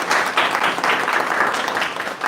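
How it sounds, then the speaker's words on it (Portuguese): Audience applause following a talk on gratitude and emotional intelligence, a dense, steady wash of many hands clapping throughout, fairly loud and continuous with no speech over it. "Uma salva de palmas para a Vanessa e para o Oswaldo."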